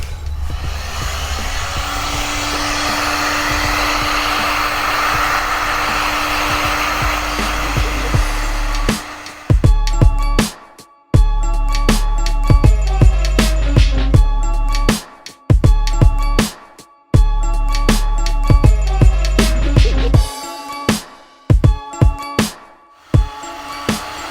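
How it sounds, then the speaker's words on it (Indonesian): A heat gun blows a steady, loud whooshing roar over freshly printed grayscale screen-printing ink, then cuts in and out in short bursts with silent gaps toward the end. "Kita keringkan pakai head gun."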